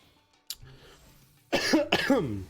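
A sharp, throaty cough bursts out twice in quick succession, preceded by a faint click and quiet background.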